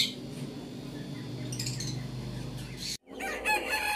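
Fancy chickens in a poultry farm setting, several birds crowing and clucking close by with squawks, a short sharp break near the end before more calls.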